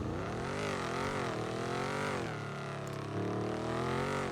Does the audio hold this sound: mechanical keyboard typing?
no